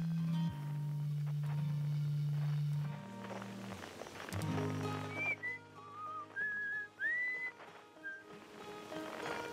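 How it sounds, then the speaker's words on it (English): A whistled little tune drifts in over a radar-like signal scanner in the space exploration game Outer Wilds, a few rising and sliding notes arriving after a low droning hum and scattered soft clicks, fairly quiet and alone. "we can hear like a number of things out there in space, including someone whistling a little tune"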